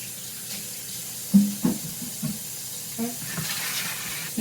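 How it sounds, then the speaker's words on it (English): Hands being washed under a running kitchen tap, a soft steady stream of water with a few splashing bursts and hand movements, fairly quiet and close. "let me move this out the way and wash my hands"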